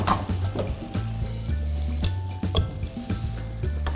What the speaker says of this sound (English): Now we just gotta thicken up the sauce made by the butter, the apricot preserve